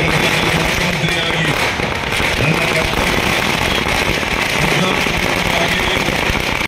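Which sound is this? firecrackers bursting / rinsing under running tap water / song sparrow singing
firecrackers bursting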